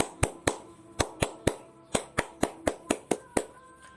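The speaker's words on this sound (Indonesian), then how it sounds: "Kita ulangi lagi. Tepuk pramuka." Scout rhythmic clapping, the tepuk pramuka pattern: a dozen sharp, close hand claps in a syncopated sequence of singles and quick pairs, loud and crisp against a quiet background.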